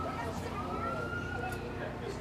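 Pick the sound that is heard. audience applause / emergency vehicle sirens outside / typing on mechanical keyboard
emergency vehicle sirens outside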